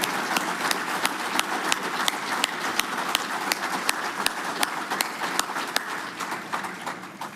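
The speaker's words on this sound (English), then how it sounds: "Y'all please give these folks a big round of applause." An audience at an electric cooperative's 2023 annual meeting applauds veterans, sharp regular claps standing out close by over the broader clapping of the crowd for several seconds.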